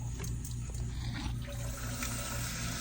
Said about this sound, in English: So it is filling back up with water.